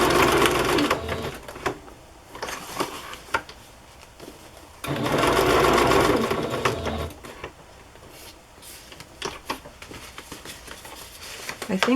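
A sewing machine runs a straight stitch while pockets are sewn into a handmade journal, in two rapid mechanical bursts with a pause between them and softer handling noises after.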